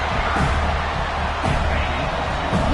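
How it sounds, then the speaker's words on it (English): A football stadium crowd at a Texas versus FSU game roars as a steady, dense wash of cheering, loud and continuous with slight swells, no single voice standing out. "Listen to the crowd energy here in the early going."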